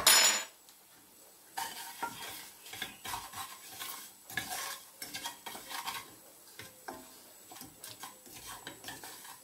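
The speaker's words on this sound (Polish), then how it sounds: "Teraz na bardzo mały gaz wstawiam z powrotem tą cebulkę, którą przysmażyłem." Fried onion in lard on a very low flame, with scraping, clinking utensil stirs and a soft sizzle running under them, the irregular strokes fairly close.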